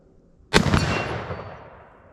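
A single loud 6.5x52 Carcano rifle shot at an outdoor range striking a steel plate, a sharp crack that rings out and decays over about a second and a half.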